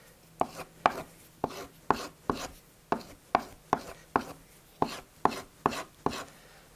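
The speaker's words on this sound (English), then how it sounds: "And then turn it that way and strop it that way." A sharpened blade edge is stropped with about fifteen brisk, evenly spaced strokes, each a short close scrape with a sharp onset, keeping a steady back-and-forth rhythm and no talk.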